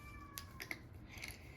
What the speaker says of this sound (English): our cat are crying there.